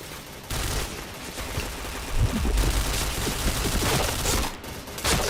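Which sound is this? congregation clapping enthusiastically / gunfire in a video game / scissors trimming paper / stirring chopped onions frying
gunfire in a video game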